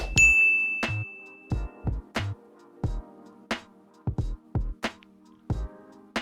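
Repeated bright notification ding chimes, about a dozen short sharp strikes spaced irregularly, the first with a long ringing tone, loud and clean with no talk.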